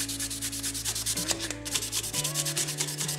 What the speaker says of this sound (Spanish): para su mejor utilización es una pasada con algún esmeril finito